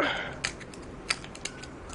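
Plastic parts of a Transformers Robots in Disguise 2015 Warrior Jazz toy figure clicking and snapping as it is folded into robot mode, a few sharp close ticks over faint background hiss.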